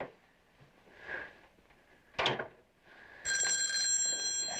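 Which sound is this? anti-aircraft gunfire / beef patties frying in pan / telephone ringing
telephone ringing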